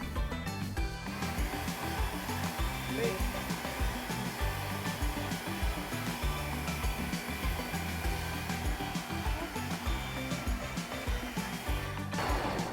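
A loud motorized grater shreds zucchini in a steady, harsh whirring roar that runs unbroken throughout, with no voices over it.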